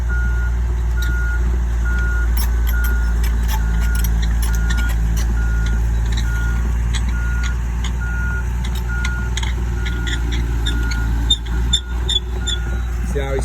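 Heavy machinery at work on a homestead, where a Cat 315 LC excavator runs over a buried drain pipe to pack the fill; a loud steady diesel rumble persists throughout, with repeating backup beeps and a few clunks near the end.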